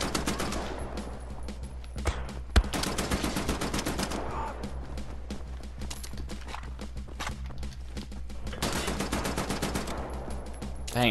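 Enemy machine gun fire in Wolfenstein: The New Order, dense rapid bursts of gunshots coming in waves over a steady low rumble, with a few heavier single shots mixed in.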